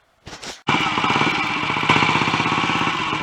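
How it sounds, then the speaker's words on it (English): A Royal Enfield Continental GT 250 motorcycle, running with its alternator stator removed while it is checked for poor performance, fires up after a short starter whirr. It then settles into a loud, steady, rapid thumping idle close by. "I'm just running this Continental GT 250 again with the alternator stator removed."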